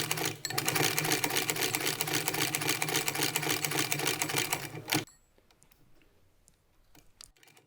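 A Weaver CUB sewing machine punches stitches through thick leather in a rapid, rhythmic mechanical clatter lasting about five seconds, then stops abruptly, leaving faint handling noise.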